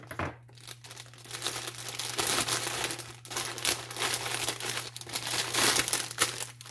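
Scissors cut into plastic packaging, producing continuous close crinkling and crackling with brief tearing bursts, and no talk.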